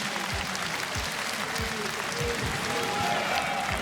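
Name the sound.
crowd applause at KSW 104 MMA gala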